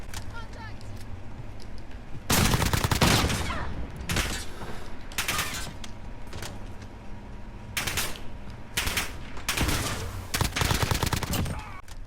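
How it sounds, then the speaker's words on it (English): Video game gunfire crackles in several loud bursts of rapid shots, separated by short quieter gaps with faint background game sound. "Miss all those shots."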